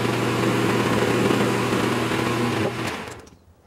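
Metal lathe taking a 45-degree chamfer cut with a chamfer tool, fed in a sixteenth of an inch on a collet stop part: a steady loud machine hum and cutting drone that drops and fades out in the last second.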